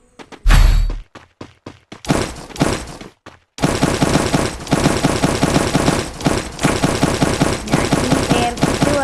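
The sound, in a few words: gunfire in the video game Free Fire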